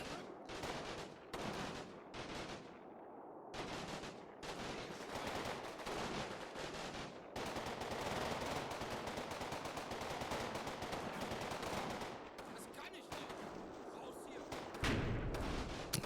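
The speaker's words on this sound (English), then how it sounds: "I could hear a lot of gunfire from this side" Rapid bursts of gunfire in the video game Combat Mission Final Blitzkrieg crackle in dense volleys, with sharp repeated shots and sustained automatic fire building into a continuous battle din.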